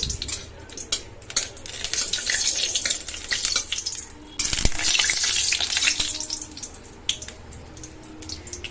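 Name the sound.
dried red chilli frying in oil for dal tempering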